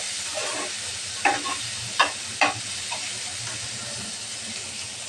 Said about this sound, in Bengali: মাছ রান্না করার জন্য দিয়ে দেবো পেঁয়াজ কুচি আর মরিচ ফালি। পেঁয়াজটা ভালোভাবে ভেজে নেব।